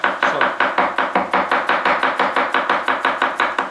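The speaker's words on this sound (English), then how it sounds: "So then I bring it all together and then I chop it." Tomatoes are chopped with a knife on a board in quick, steady strokes, about four per second, each a crisp close tap, with no talking.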